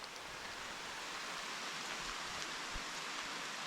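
Rain falls steadily outdoors during public-land bowhunting in Tennessee, a soft, even hiss with a few faint low thumps, quiet and unbroken.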